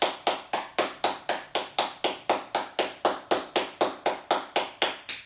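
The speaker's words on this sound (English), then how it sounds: "Clap your hands." Steady hand claps, about twenty sharp evenly spaced claps in quick rhythm, close and clear with no talking.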